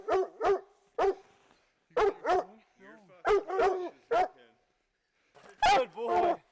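Hunting dogs bark and yip in short excited bursts during a cougar hunt in February, loud and close, with pauses between volleys and someone shouting encouragement.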